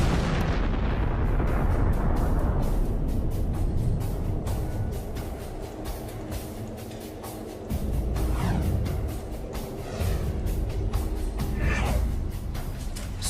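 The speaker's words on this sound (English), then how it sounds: "the remaining stuff will evaporate in a colossal explosion" A colossal explosion meant as an evaporating black hole: a huge loud blast that rolls into sustained thunderous rumbling and crackling, with repeated booming surges over a dense low roar.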